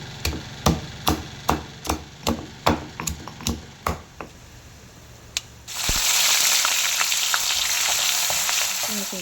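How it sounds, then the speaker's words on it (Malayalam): Okra being stir-fried in hot coconut oil in a pan, first about a dozen sharp scrapes and taps of a spatula in a steady rhythm, then a loud, continuous sizzle that swells up and holds to the end. "വെണ്ടയ്ക്ക ഒലത്തിയെടുക്കാനുള്ള പരിപാടിയുള്ള കേട്ടോ."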